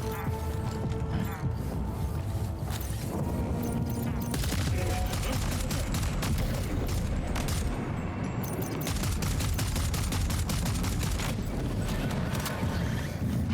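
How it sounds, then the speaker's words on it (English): A rubber-bullet assault rifle in the Death Stranding 2 video game fires repeated bursts of rapid cracks over layered in-game ambience and mechanical clatter, loud and dense across the whole stretch. "This assault rifle fires rubber bullets capable of neutralizing targets without killing them."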